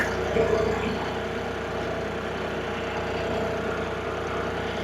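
Tractor engine idling steadily in a corn field, a constant low mechanical rumble at close range with no talk over it.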